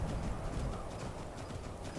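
Horse hooves clip-clop steadily in the video game Skyrim, an even rhythmic walking gait heard close over a noisy game background.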